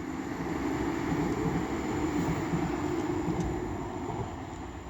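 Class 195 unit 195113 rumbles through Castleton station with a steady low drone and faint higher rail tones, held at a moderate, even level before easing off near the end.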